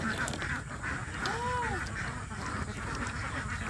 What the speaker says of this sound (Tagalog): Dami nyo namang itik.